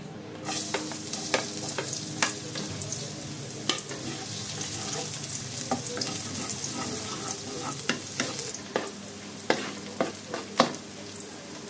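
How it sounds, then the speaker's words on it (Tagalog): Garlic and onion sautéing for kare-kare, a continuous oily sizzle punctuated by repeated scraping and clinking strokes of a spatula stirring in the pan, close and steady. "Nagigisa na po tayo ng bawang at sibuyas."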